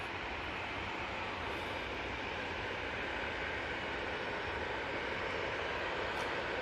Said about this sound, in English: Next in, we've got the Aer Lingus A330.